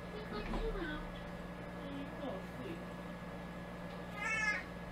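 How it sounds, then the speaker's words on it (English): A cat gives several drawn-out, plaintive meows, with a higher, louder cry near the end, over a low steady hum and some voices. "That's a sad meow."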